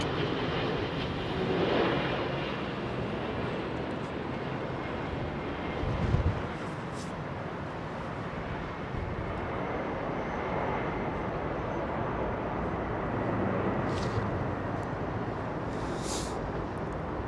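A Qatar cargo jet at London Heathrow Airport, heard as a steady, broad engine roar that holds loud and continuous throughout, mixed with some wind buffeting on the microphone.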